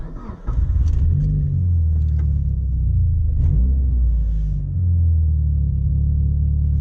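A Porsche 944's engine idles after a warm start, giving a steady, loud low rumble close by that dips briefly, then resettles into an even idle.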